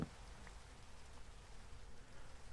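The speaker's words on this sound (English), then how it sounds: "Rain is so annoying." Rain falling in a video game, a soft steady hiss of drops that stays faint and even throughout with no talking.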